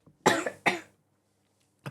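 Two or three quick, close coughs burst out in a short cluster, then give way to silence with a faint catch of breath at the end.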